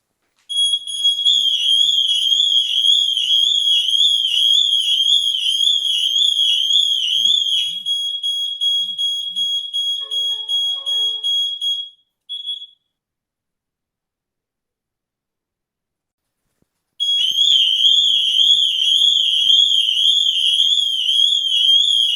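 Ajax and Somfy wireless alarm sirens blare during a test, a loud piercing warbling tone that runs for about twelve seconds, cuts off into silence, then resumes.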